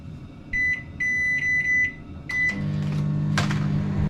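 A kitchen microwave oven heating a dish for about five minutes gives a few short, clear electronic keypad beeps, then starts a steady low hum that runs on to the end with a brief clunk near the close.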